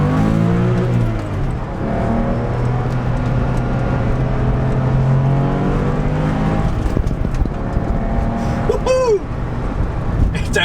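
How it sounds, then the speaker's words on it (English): A Porsche 911 of the 996 generation accelerates hard up a hill, its engine note rising through the gears loud and close, with a brief shift break partway through and a voice speaking over part of the run. "let's just have one last blast up this nice hill in the Porsche 911"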